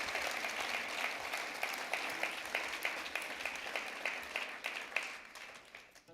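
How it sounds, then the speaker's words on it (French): A live concert audience at Muziekpublique applauds in a steady, dense burst of clapping that holds evenly before trailing off at the end. "vous pouvez les applaudir"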